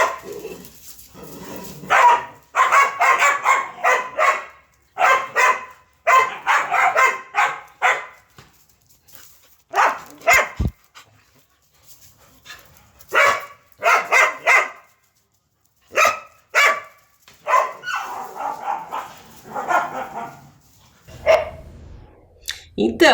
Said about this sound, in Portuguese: esse ficou muito nítido, que é um cachorro